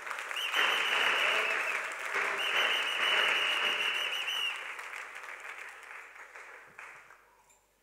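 A church congregation at a Sunday service breaks into sustained, loud applause and cheering with whistles for several seconds, then it tapers off into scattered clapping.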